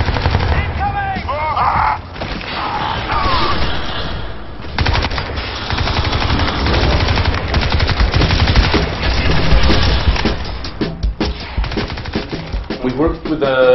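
Loud, sustained gunfire and machine-gun bursts from the Crysis 2 video game, dense rapid volleys with explosions mixed in, nearly continuous throughout, with shouted voices heard briefly over the shooting.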